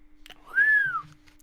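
A person whistles one clear, sustained note that rises and then falls, heard alone during a tabletop role-playing game session, with only faint background noise.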